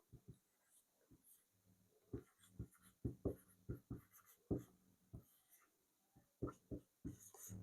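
A pen writes by hand on paper, producing a series of short scratchy strokes in irregular bursts, close and faint, with no talking.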